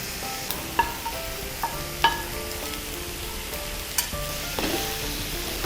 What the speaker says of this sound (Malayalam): വെളിച്ചെണ്ണയിലേക്ക് നമുക്ക് ഈ 1 കിലോ ഉള്ളി ഇട്ട് കൊടുക്കാം.